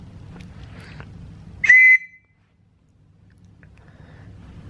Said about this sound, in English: this is a sporting referee's whistle